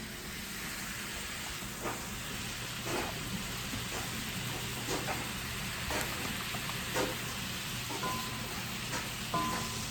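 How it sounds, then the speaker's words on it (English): Thin strips of beef sizzle in a pan after sake, salt and pepper go in, making a continuous, moderately loud crackling hiss with scattered sharp pops and no talk. "Come listen to this sizzle."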